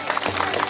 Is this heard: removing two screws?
no